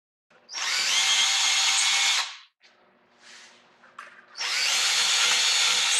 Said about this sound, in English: Now we'll use a 3/16 drill bit to drill through our drawer box.